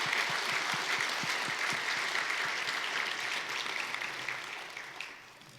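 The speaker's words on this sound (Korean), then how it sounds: "그런 의미에서 우리 큰 감사의 박수를 올리겠습니다." A congregation at a Christian academy graduation service in a church gives a full round of thank-you applause. The dense clapping holds steady, then fades out toward the end.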